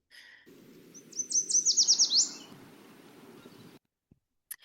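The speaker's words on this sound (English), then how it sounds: "Yellow warblers have this really sweet song." A yellow warbler delivers a single brisk song of quick repeated sweet notes rising to an emphatic ending, distinct over a low continuous rumble, with a few faint tones before it and small clicks after.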